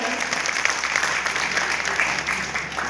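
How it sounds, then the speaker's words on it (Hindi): An audience at a community convention breaks into sustained, dense applause, clapping steadily throughout while a voice speaks faintly underneath. "इसके लिए आप सभी के लिए जोरदार तालियां हैं।"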